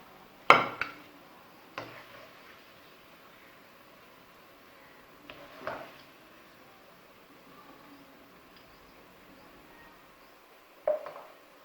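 Browned onions being moved from a pan to a plate, a few sharp metallic clinks and scrapes of a utensil against cookware, spaced apart with quiet between them.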